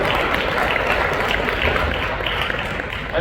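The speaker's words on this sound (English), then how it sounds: "Give this man a massive round of applause" An audience claps steadily at a Toyota SOMI 2026 motoring event, a dense, even wash of applause that carries through the whole moment, with a voice faintly heard over it.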